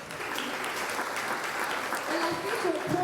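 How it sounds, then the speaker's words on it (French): An audience claps for someone speaker at a motivational talk, a steady, dense applause filling the room for about three seconds, with some voices mixed in. "Est-ce qu'on peut applaudir pour elle?"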